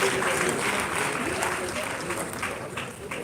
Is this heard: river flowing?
no